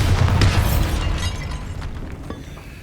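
A Bombarda blasting spell exploding inside a tomb in Hogwarts Legacy, a loud, close, booming blast with a rumbling, crumbling tail that fades over a few seconds.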